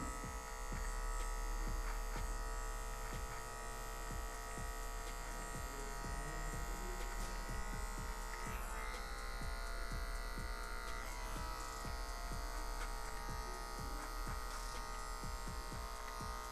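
Electric hair clippers buzz steadily and close up while cutting a low fade, a continuous motor hum with rapid ticking strokes as the blades pass through hair, with no talking.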